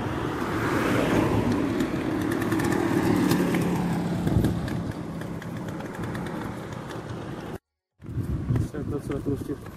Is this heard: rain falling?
no